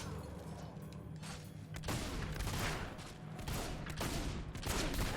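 Repeated gunshots aimed at skeletons in Fable 2, a steady series of sharp cracks over continuous background game noise, fairly quiet overall with a few louder hits toward the end.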